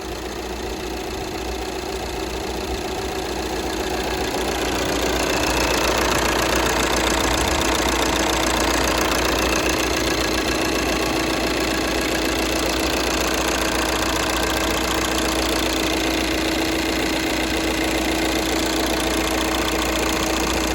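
A Volkswagen EA189 2.0 TDI diesel engine idles nearby, a continuous mechanical rumble with a faint rattling clatter running the whole time, no voices.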